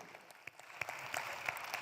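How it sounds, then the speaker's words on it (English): An audience at a panel event on women's rights and leadership claps in a faint, scattered round of applause, with individual hand claps popping out of a soft, distant wash. "Let's clap."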